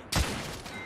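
A single sharp gunshot from The Order: 1886, set in Whitechapel, cracks loudly and close, followed by a lingering reverberant tail.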